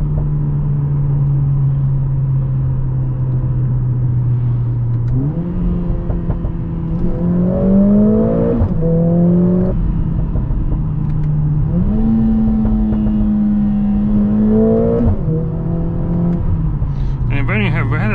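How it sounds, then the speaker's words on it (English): A 2021 Mercedes-AMG GLA 45 S engine revs and shifts through gears, with sharp exhaust pops on each upshift, someone talking over the steady drone. "you can hear these nice bangs on the upshift."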